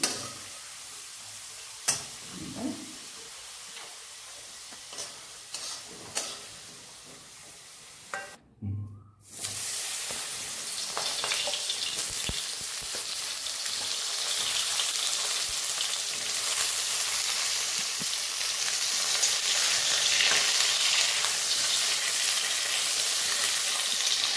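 Eggplant frying in hot oil after potatoes are lifted out, a steady broadband sizzle that swells loud and continuous after a brief quiet gap, with a few faint clicks of a utensil early on.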